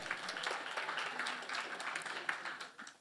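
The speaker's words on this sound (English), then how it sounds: "Appreciate the applause." Audience applause at a business conference closing ceremony, a fairly faint patter of scattered clapping from a modest crowd, with individual claps standing out over about three seconds.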